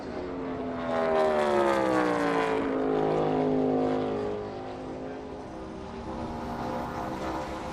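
NASCAR Cup car at the 2022 Dixie Vodka 400 at Homestead, a loud engine roar swelling and Doppler-sweeping down in pitch as it passes on the back straightaway, then fading.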